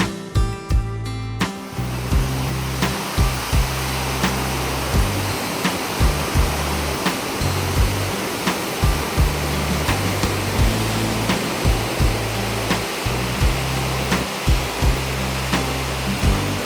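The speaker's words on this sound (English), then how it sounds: "this beautiful Glencoe River waterfall" The Glencoe River waterfall in the Scottish Highlands roars in a loud, constant rush of falling water, near and unbroken, with a few soft knocks.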